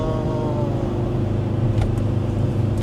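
A Mercedes-AMG car engine hums and drones as it slows under engine braking on a downshift, its pitch shifting downward under steady road rumble, heard from the passenger seat.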